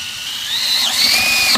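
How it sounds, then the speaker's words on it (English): A power drill bores a 5/8-inch hole in plastic, a short, close, high-pitched whirring whine that shifts pitch slightly under load and ends with a brief rattle. "I've never drilled plastic before, but I'm just gonna see what happens"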